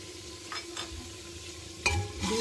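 Ground onion paste sizzles in a pan for a Kashmiri marchwangan korma, a low steady frying hiss with a few scraping stirs and a louder clatter near the end.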